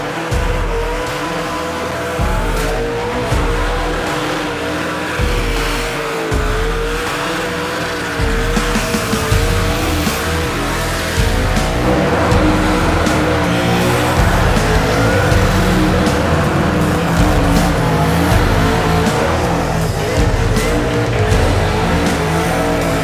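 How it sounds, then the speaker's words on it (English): Modified cars doing burnouts at the Summernats car festival, engines roaring continuously with tire squeal and skidding throughout, loud and close with crowd and event noise behind. "These cars do some pretty crazy skids."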